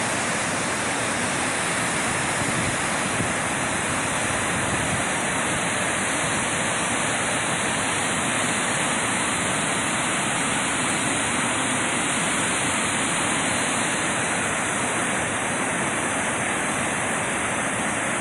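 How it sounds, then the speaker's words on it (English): Kepler Cascades waterfall in Yellowstone pours in a steady, dense roar of rushing water, a broad unbroken wash that holds even and loud throughout with no voices. "Another beautiful waterfall."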